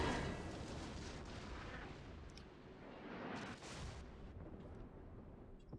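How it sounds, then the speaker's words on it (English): Heavy naval gunfire from an Algérie cruiser booms in rolling salvos during a World of Warships battle, a dense, sustained rumble of distant cannon blasts with no talk. "there's the Algeria firing on us again"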